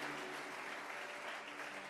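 A church congregation applauding during a worship service, a steady dense wash of clapping that fills the whole stretch without pause, with no voices standing out above it.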